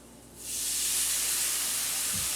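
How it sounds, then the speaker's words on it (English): Water added to a hot frying pan of potatoes, bursting into a loud, bright steam hiss that starts abruptly and holds steady and close to the end. "I'm going to put a little bit of water in here, just even though it's frying."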